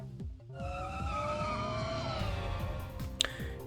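Motorbike engine revving in the Anonymous;Code video game, a steady rising whine with layered harmonics over a rumbling low end, loud and continuous, with a sharp click near the end.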